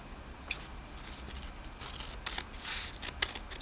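Scissors snip through coat collar fabric, trimming corners and seam allowances in stages: a series of short, crisp close-up cuts in an irregular rhythm, some in quick pairs, over a quiet background.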